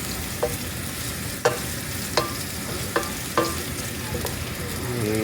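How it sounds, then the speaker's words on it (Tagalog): Garlic and ginger sautéing in a pan while a utensil stirs them, giving a steady sizzle broken by about five sharp scraping clicks against the pan, close and clear with no talking. "At gawin natin golden brown yung bawang."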